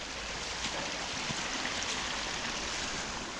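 Water trickles down into the Harrowden Brook beside Wellingborough's iron-rich Red Well, a steady, close babbling wash that continues evenly with no voices.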